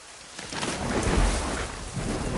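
Heavy rain pours steadily through a thunderstorm in the game Assassin's Creed Rogue, with a deep low rumble of thunder swelling in the middle and the downpour continuing loud and close throughout.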